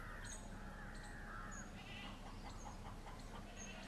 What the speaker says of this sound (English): So they have a bustling farm sound.